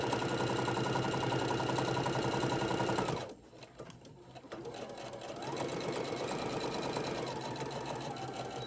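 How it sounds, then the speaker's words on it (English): Sewing machine stitching a seam up the leg of a stuffed bear body, a close rapid whir that halts abruptly, followed by quieter restarts and a shorter back stitch. "I'm just going to sew a seam up this side"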